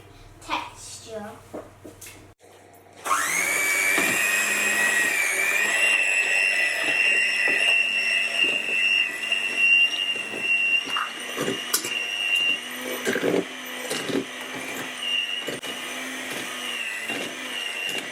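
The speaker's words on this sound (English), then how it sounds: "you start stirring it all together until it's a smooth texture" Cake batter is mixed until smooth by a loud electric whir that starts abruptly after a quiet moment and runs steadily with small dips and knocks, while someone talks at times.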